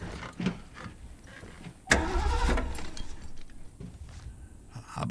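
A car engine in The Last of Us tries to start on a dead battery, a brief grinding crank that surges suddenly, runs roughly for about a second and fades, with faint mechanical clicks around it.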